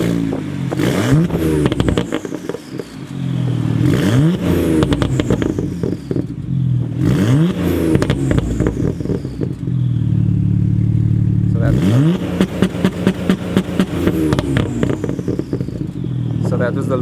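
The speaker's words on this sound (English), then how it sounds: "So that was the launch control." A car running launch control with a burble tune revs up in repeated loud bursts, each rising whine followed by crackling pops and clattering on the overrun, with wind noise throughout.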